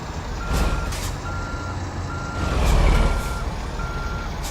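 In the American Truck Simulator video game, a truck reverses with a regular run of loud, high reversing beeps over a low engine rumble, with a brief hiss swelling partway through.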